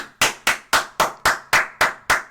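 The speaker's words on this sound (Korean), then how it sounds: "박수." Eight sharp hand claps in a steady, even rhythm, close and fairly loud, with no voices.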